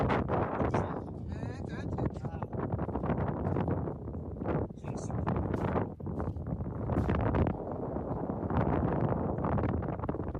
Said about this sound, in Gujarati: અહીંયા એટલો પવન ને